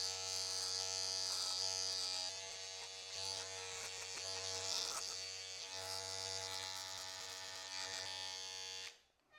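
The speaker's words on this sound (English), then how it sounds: "But what I do with these is I actually just shave my beard." An Andis T-Outliner electric trimmer shaves a beard with a loud, steady, close-up buzz that holds for about nine seconds, wavers slightly as it moves over the face, then cuts off abruptly.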